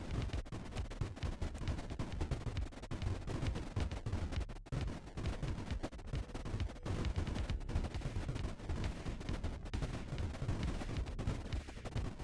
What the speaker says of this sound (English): I do not like the width of that explosion.